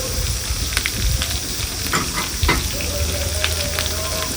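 Chopped beans, carrots and other vegetables sizzle steadily in a pan for village-style pappu sambar, a close, continuous crackling fry with occasional stirring clinks.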